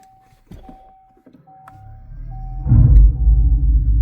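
A Dodge Charger electric car powering back up: a steady electronic chime tone with soft clicks, then a low synthetic hum that swells and holds loud toward the end.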